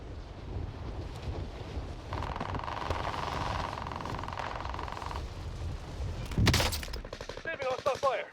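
Gunfire in the Warzone video game: bursts of automatic fire under a steady windy rumble, with a tonal hum in the middle stretch and a louder, sharper crack near the end, followed by crackling noise.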